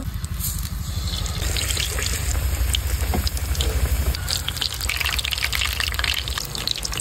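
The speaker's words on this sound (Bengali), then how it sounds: "তো এবার গরম তেলে দিয়ে দিব।" Eggplant slices coated in gram-flour batter fry in hot oil with a loud, continuous bubbling sizzle and dense crackle, heard close and alone for several seconds.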